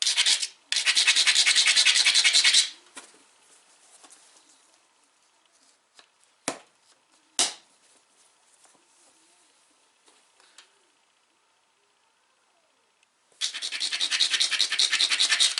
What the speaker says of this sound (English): Nothing came off, so I'm going to grind again.